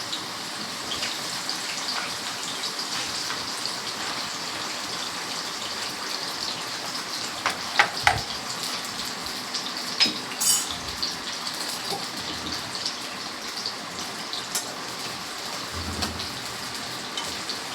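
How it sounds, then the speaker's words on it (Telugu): Bitter gourd pieces frying in oil in a pan with tomato added, a steady hissing sizzle throughout with a few faint clinks, no talking. "ఈ ముక్కలు వేపేసుకుందామండి."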